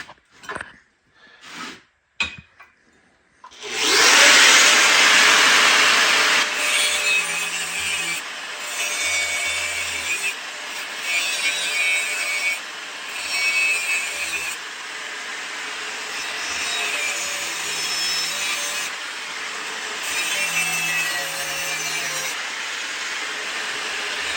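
Saw blade cutting through wood, a few sharp knocks at the start followed by a long, loud, continuous rasping cut with a steady back-and-forth texture.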